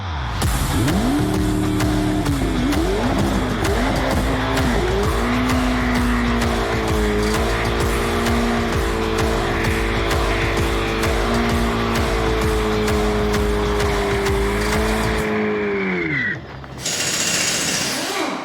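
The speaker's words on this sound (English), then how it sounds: "I think what we need to do now is a burnout" A Corvette engine revs hard during a tire burnout and holds a high, steady roar with tire squeal for about fifteen seconds, then drops off abruptly.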